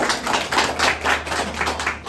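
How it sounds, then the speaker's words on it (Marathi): An audience claps at a Marathi community event honouring an entrepreneur, a brief burst of steady rhythmic applause without voices. "टाळ्या वाजवा"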